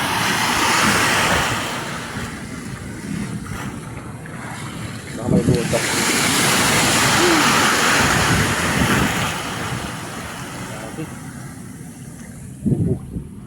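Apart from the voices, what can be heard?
big ocean waves around a boat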